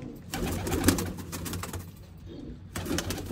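Pigeons coo in soft, low, repeated throaty bursts close by, with a gap of quieter rustling between calls and no voices.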